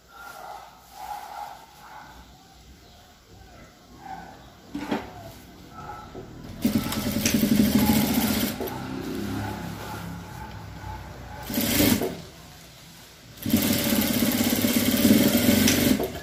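A sewing machine hems jeans trousers in three whirring runs: a long burst, a short one, then another long stretch, close and loud after a quieter start.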